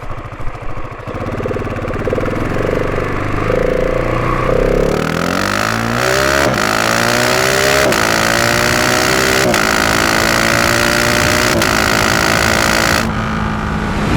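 A GasGas SM 700 supermoto motorcycle engine idles roughly, then revs up repeatedly through the gears, pitch climbing and dropping with each shift, loud and close throughout.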